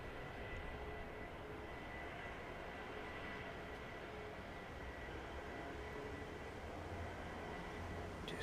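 Airliner inbound from JFK arriving at East Midlands Airport, a faint distant broadband jet roar held steady at low level.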